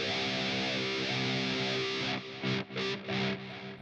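Lead electric guitar through an FAS AX8 with auto wah, pitch shifting, parametric boost and delay, a sustained distorted note followed by a few short sweeping wah-like stabs, fairly loud and alone.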